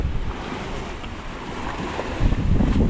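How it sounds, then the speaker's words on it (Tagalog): Rough sea waves surging and crashing in the West Philippine Sea, heard from a boat as a continuous broadband roar with gusty wind buffeting the microphone, swelling louder toward the end. "Maalon pa rin hanggang ngayon."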